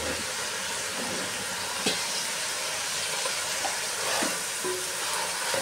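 Finely chopped ginger, garlic and green chili fry in hot oil for a vegetable pulao, giving a steady, even sizzle with occasional faint stirring clinks and no talk.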